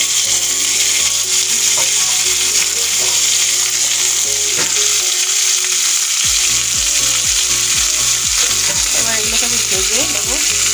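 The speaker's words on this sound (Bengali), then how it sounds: "কাঁচা লঙ্কা আদা রসুন টমেটো আর পেঁয়াজ এগুলোকে আমি হালকা কড়ায় ভেজে নেব" Green chilli, ginger, garlic, tomato and onion fry in oil in a karahi, giving a loud constant sizzle with rhythmic scraping strokes of a stirring spatula, steady throughout with a brief lull midway.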